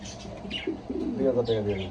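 Soft, throaty cooing from pigeons close by at a pigeon farm, several low rolling calls over a couple of seconds, with faint background chatter.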